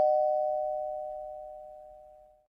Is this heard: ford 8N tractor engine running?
no